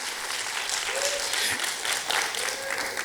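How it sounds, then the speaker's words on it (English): Audience applause at a social justice and racial equity institute launch event, a dense, even patter of many hands clapping throughout, with a few faint voices mixed in. "Hey, let's give Rebecca a round of applause."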